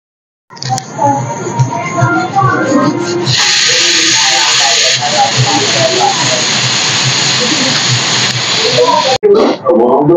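A pressure cooker holding mutton paya gives a steady, close, broad steam hiss that swells after a few seconds and runs on, with a person talking over it throughout.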